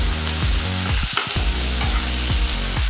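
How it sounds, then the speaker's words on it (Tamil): Capsicum sautés in a pan for chicken salad, a loud continuous sizzle with a low steady hum beneath and a few soft stirring knocks, no voices. "அதையும் லைட்டாக வதக்கி விட்டுக்கோங்க"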